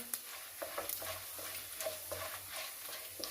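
Urad dal, chana dal, cumin, curry leaves and dried red chillies fry gently in hot oil for a bitter gourd gojju, a soft steady crackle with light stirring clicks, close and without talk.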